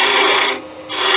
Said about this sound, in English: Too much pressure on the gouge there.